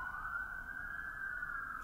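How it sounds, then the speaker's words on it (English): An emergency vehicle siren sounds from outside, one steady sustained wail that holds its pitch across the whole clip, moderately faint and heard alone. "what is with these sirens?"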